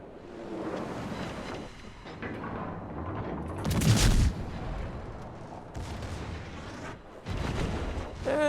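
A Cleveland cruiser's guns fire armor-piercing shells in World of Warships, with heavy booming salvos over a rushing ocean and wind backdrop, and one especially loud blast near the middle.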